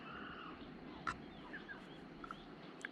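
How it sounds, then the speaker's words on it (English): Peacocks call in a rural Himalayan setting in India, several short, sharp cries scattered across the clip, moderately distant and set over a steady background hum. "Can you hear the peacocks?"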